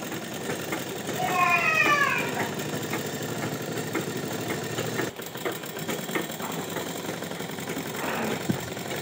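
Sewing machine stitching a ghagra seam runs close and steady with a fast mechanical whir and rattle. It continues for several seconds and briefly pauses near the middle, with a voice speaking over it early on.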